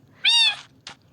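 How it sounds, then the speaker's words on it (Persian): A tamed cat in the Minecraft video game gives one clear, bright meow, followed moments later by a short, softer chirp-like sound, close and alone. "گربه دارم"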